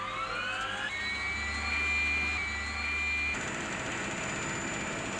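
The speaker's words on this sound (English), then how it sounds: "It's an hour's flight aboard an Mi-8 to reach the Kolyma Hunting Reserve" Heavy, continuous turbine whine and roar of an Mi-8 helicopter in flight over Siberia, loud and steady with a shifting tone, no talk.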